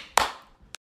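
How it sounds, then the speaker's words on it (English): A single sharp, loud hand clap rings out, followed a moment later by a fainter second clap. "If your boyfriend is a liar, clap your hands."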